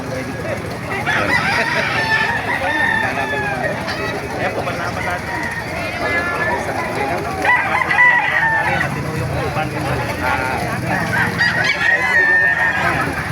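Roosters crow repeatedly among other fowl and honking geese in Baliwag, with people talking in the background throughout.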